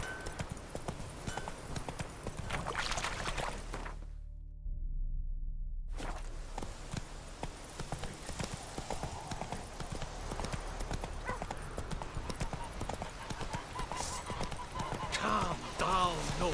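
A horse runs in the video game The Witcher 3, its rhythmic hoofbeats pounding steadily over dirt for the whole stretch, with character voices speaking over the riding.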